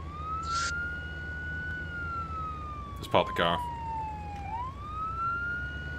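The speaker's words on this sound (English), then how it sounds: "You can turn off the sirens and everything now." A police car siren in the Arma 3 video game wails as one steady, gliding tone that dips and rises again, with brief radio-like talk and a short burst of noise over it.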